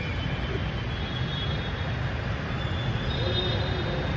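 A loud, steady rumble of a metro train at a station in Bengaluru fills the space, with a faint high whine running through it and no clear breaks.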